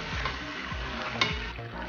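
Mutton karahi being stirred in a pan over medium-high flame: a continuous frying sizzle with a few spoon scrapes and a sharp clink, close and steady.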